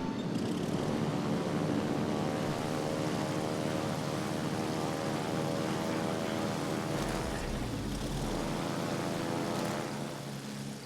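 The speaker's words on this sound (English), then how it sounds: "once we get our planes in the air" Carrier planes in World of Warships Legends drone steadily overhead, a loud, continuous propeller-engine roar that holds for about ten seconds and fades slightly at the end.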